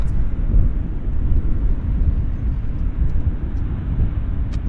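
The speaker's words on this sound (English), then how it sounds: "Air India Star Alliance is now on approach to this runway" An Air India airliner on approach to a runway at Vancouver Airport, heard as a steady, broad low jet roar rumbling continuously throughout at moderate distance, with no talk.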